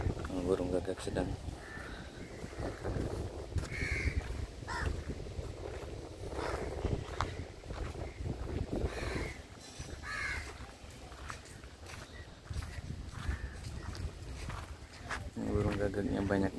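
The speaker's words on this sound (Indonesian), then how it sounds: "Banyak suara burung gagak." Many crows caw over a beach on the Saudi coast near the Jordanian border, scattered calls near and far over wind and background noise, with a person talking at times.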